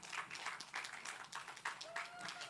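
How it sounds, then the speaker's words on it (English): An audience at a summit gives a round of applause, a faint, steady patter of many hands clapping through the short stretch, with a voice heard briefly near the end. "a huge round of applause"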